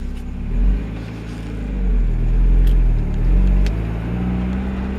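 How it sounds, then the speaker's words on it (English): A Mazda Miata on a test drive after clutch line and slave cylinder repair gives a steady low engine rumble with gentle swells in revs and road noise, heard from inside the car. "Now we're gonna go for a test drive."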